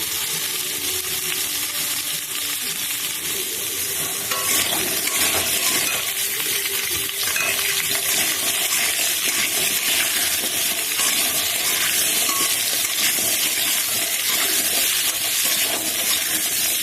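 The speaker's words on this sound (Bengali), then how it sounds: "আলুগুলো একটু লাল করে ভেজে নিতে হবে।" Potatoes fry with turmeric in a pan, a loud close sizzle that holds steady throughout, with occasional stirring scrapes and no talking.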